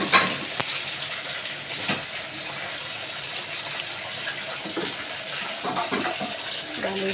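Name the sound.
lentils (dal) added to hot spiced tempering, sizzling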